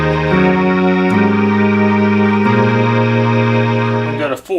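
Opus 3 synthesizer chorus set to 8-foot footage only, playing loud sustained organ-like chords that shift to new pitches a few times, with a swirling chorus shimmer and a brief dip at the end.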